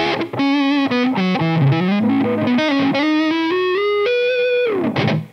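A Gretsch Electromatic electric guitar with master tone rolled back plays a melodic lead phrase with sustained, singing bent notes, slightly overdriven but warm and rounded, close and prominent.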